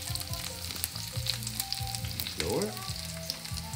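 Shrimp sizzle and crackle in a frying pan for a Venetian tomato-sauce dish, a steady close hiss with scattered pops; someone briefly speaks a word partway through.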